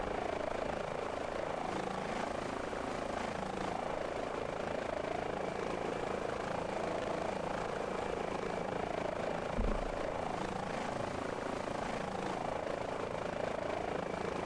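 An HPG H145 helicopter in Microsoft Flight Simulator, on a hoist rescue mission, with a steady rotor and turbine drone holding evenly throughout and a pulsing rotor rhythm and faint high whine above it.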